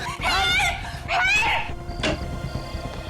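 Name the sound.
people screaming for help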